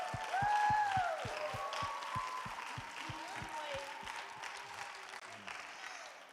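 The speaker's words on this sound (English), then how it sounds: "Let's give them a round of applause for making it this far." Audience at a regional quizzing competition breaks into sustained applause, a steady wash of clapping that continues at moderate level throughout, with a voice briefly audible over it.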